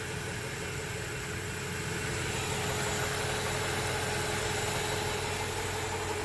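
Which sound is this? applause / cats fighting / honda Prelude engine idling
honda Prelude engine idling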